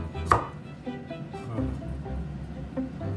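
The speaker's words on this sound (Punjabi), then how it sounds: "ਅਦਰਕ ਆਪਾਂ ਕੱਟ ਲੈ ਇਹਨੂੰ ਇਹਦੇ ਵੀ ਬਰੀਕ ਬਰੀਕ ਕੱਟ ਲਓ" A knife chops ginger on a board, giving one sharp close knock followed by a few softer, irregular cuts against low background noise.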